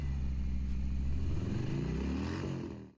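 A 2006 Harley-Davidson Electra Glide motorcycle riding on a cold autumn day, its loud, close engine rumbling steadily with a slowly rising pitch before cutting off abruptly at the end.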